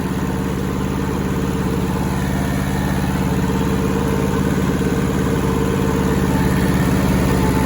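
A rusty Hinomoto tractor engine runs steadily at a low idle-like throttle while mowing tough growth, a continuous close rumble with no voices over it.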